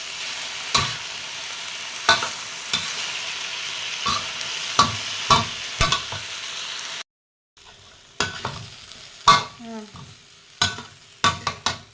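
Crispy fried catfish being stir-fried in green curry paste with kaffir lime leaves in a wok, rhythmic scraping stirs and clanks over a soft sizzle, with a brief pause partway through.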